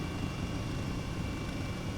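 Airbus H135 helicopter in Flight Simulator 2020, a steady low engine and rotor drone heard continuously from inside the cabin, even and unbroken throughout.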